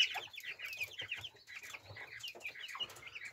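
Young Brahma chicks, white with black markings, cluck and peep in a steady run of short, close chirping calls with no talk over them.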